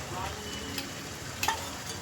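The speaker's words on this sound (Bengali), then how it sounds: "এবার ভালো করে কষাতে হবে চলুন কষাই" Spices and raadhuni paste being stir-fried for khichuri, a steady oily sizzle with a scraping stir and a couple of sharp clinks of the spoon against the pan, close and unbroken.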